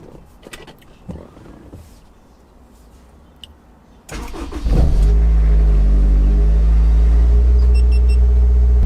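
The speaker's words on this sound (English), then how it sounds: "let's go ahead and start up the car" A Honda S2000 engine cranks and fires up around the midpoint, then settles into a loud, steady idle rumble close by, after quiet interior sounds.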